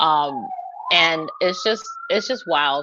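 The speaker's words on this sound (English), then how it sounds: "Sorry about the sirens." An emergency vehicle siren wails outside, a steady rising tone running continuously beneath a person talking nearby.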